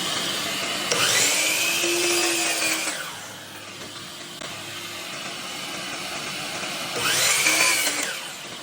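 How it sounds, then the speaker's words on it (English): A power saw cuts small wood pieces at a 30-degree bevel for decorative Christmas trees, two distinct whining cut bursts near the mic, each a couple of seconds long, separated by a quieter pause. "So I'm going to cut these at a 30-degree bevel on both of these right here."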